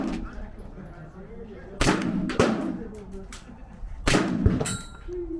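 Firearm shooting at an Army firing range at Fort Carson: two loud, sharp gunshots several seconds apart ring out over outdoor ambience, with people talking quietly between the shots.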